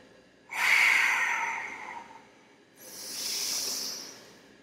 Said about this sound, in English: Close your eyes, just hear your breathing.